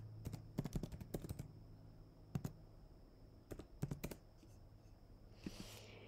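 Light, intermittent typing on a computer keyboard: small clusters of crisp key clicks separated by pauses, close by and fairly quiet, with no talking.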